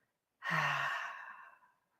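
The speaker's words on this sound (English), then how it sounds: "But that works well with the audible exhale" A single long audible exhale during a calm breathing exercise, close and soft, a breathy sigh that starts abruptly, then tapers off over about a second into silence.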